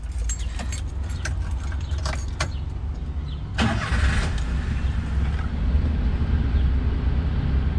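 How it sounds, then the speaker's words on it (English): A 1991 Daihatsu Hijet four-wheel-drive kei truck starts: keys jangle in the ignition, the starter catches and the small engine settles into a steady, quiet idle close by. "Let me start it for you right now."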